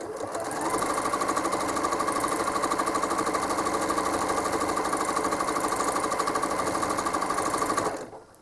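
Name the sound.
home sewing machine stitching leaves on a quilt border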